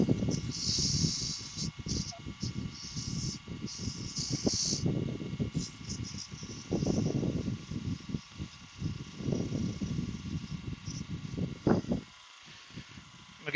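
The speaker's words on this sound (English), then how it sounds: "Then get a bit of sandpaper." Sandpaper is pressed against a turned wooden fruit shape spinning on a lathe, making a rough, scratchy hiss that rises and falls in surges over a low motor hum. The sanding stops shortly before the end.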